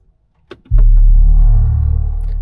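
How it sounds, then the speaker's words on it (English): A car engine cranks briefly and then catches with a loud, deep rumble that settles into a steady idle close by, heard alone on a rainy day. "It does make a brilliant noise when you start this car."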